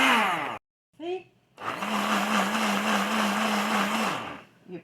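Blender pureeing diced cantaloupe and thawed frozen strawberries, a loud steady motor whir with short bursts at the start, a brief voice in a pause, then a sustained run that winds down.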